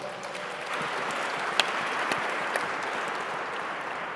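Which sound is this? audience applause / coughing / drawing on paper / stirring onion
audience applause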